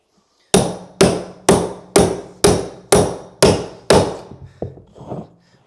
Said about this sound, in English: I'm going to take our hammer and our tucker and tuck that all the way along